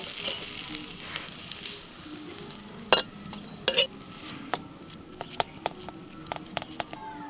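A spatula stirs a drying pea filling for motor shutir paratha in a pan, making soft sizzling under scattered sharp scrapes and clicks of the utensil against the metal.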